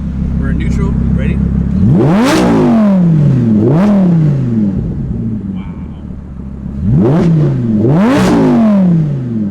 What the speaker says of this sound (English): In order to rev this car, you have to hold each paddle shift down like this.